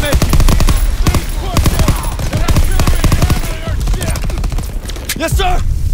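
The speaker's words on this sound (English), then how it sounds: "Artillery is hitting the beach." Heavy artillery and rapid gunfire pound a beach in Call of Duty WWII, loud dense bursts of automatic fire and impacts filling the scene nearly continuously, with shouted voices cutting through the battle.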